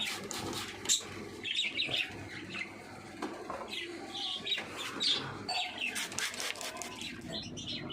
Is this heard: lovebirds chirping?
yes